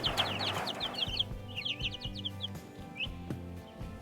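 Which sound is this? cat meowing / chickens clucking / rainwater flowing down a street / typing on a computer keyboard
chickens clucking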